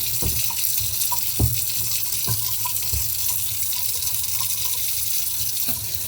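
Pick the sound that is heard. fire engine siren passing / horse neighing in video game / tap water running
tap water running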